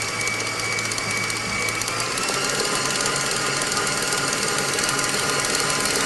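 An electric mixer whirs steadily at medium speed while mixing batter, a loud continuous mechanical hum close by, with no one speaking.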